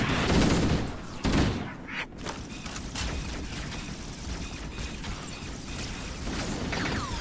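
Rapid gunfire crackles in a Japanese online shooter game, with dense bursts of shots and mechanical clatter running continuously and loudly across the clip amid other game noise.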